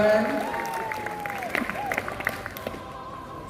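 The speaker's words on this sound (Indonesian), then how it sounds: "Boleh kita berikan tepuk tangan." A school audience at an orientation event in Palangka Raya breaks into brief, moderately close applause of scattered clapping, overlapping a speaker's voice in a hall.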